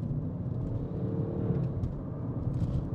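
An Audi RS6 with a modified exhaust and bypass valve drones as a muffled, steady low engine rumble heard from inside while driving, fairly quiet and even throughout.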